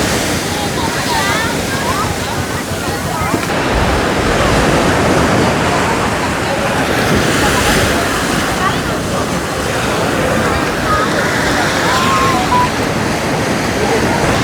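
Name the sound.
strong sea waves crashing on the beach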